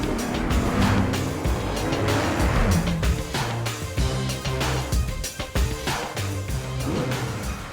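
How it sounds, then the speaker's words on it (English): A new Toyota Supra is test driven hard on the Nürburgring, its engine revving and shifting continuously with tire noise, loud and close, no talking. "We are back in Nürburgring for final testing of the new Supra."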